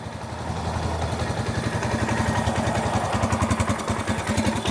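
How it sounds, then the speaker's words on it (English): A 2022 Janus Gryffin 250 Scrambler motorcycle idles close by after a cold start with its choke, a steady, even single-cylinder thump with rhythmic pulsing and light mechanical clatter. "idling very happily"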